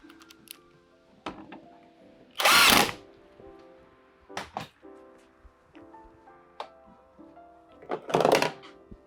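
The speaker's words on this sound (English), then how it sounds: "Put the two bolts that hold this PCB in place." A power tool drives in the two bolts holding the circuit board of an Electrolux Zanussi dryer: two loud, close whirring bursts separated by quieter clicks and knocks of handling.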